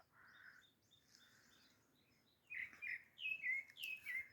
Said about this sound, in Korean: 저는 사실 저 새소리 들으려고